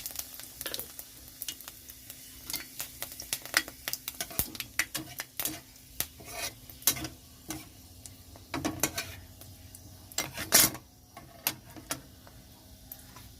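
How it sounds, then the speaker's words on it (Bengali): Dried red chillies and panch phoron spluttering in hot mustard oil in a karahi, a steady close sizzle broken by frequent sharp crackles and pops, with a few louder bursts, no talking. "সর্ষের তেলটা গরম হয়ে গেছে, দিয়ে দিচ্ছি শুকনো লঙ্কা"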